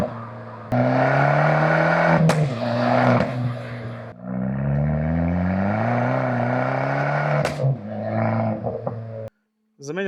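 An Abarth 500 revs hard through an aftermarket street-legal Bombardone R4 exhaust, loud rising and falling engine tones held close, with sharp pops and a sudden cut near the end.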